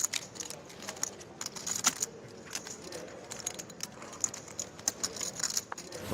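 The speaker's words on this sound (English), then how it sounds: "Mikita is shuffling his time bank cards." Poker time bank cards, each worth 30 seconds, riffled and shuffled by a player at a televised 2018 hold'em tournament table, a quick continuous papery clatter with no talk over it.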